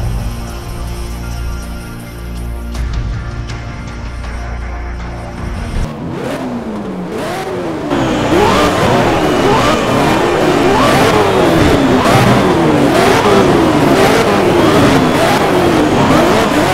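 A McLaren MP4 race car at the Nürburgring in Need for Speed Shift 2 Unleashed screams loudly up and down through the gears, its engine note rising and falling in rapid rhythmic shifts after a quieter idle-like opening.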